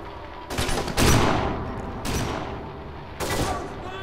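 Shotgun blasts in the video game Kane and Lynch 2: Dog Days, four loud booming shots spaced about a second apart, each with a short decaying tail.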